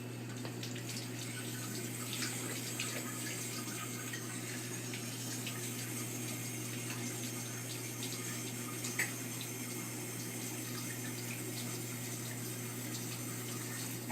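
A faucet runs steadily during handwashing, a quiet, even rush of water with no talking.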